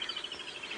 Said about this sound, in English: I just thought I heard cuckoo shrikes calling in this area.